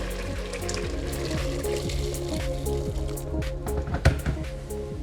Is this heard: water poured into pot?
yes